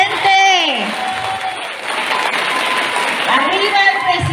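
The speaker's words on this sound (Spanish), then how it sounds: "Un aplauso para nuestro presidente" Crowd at a political rally for President López Obrador applauding and cheering in a brief burst, with voices and whoops layered over the clapping and a loudspeaker voice at the start and end.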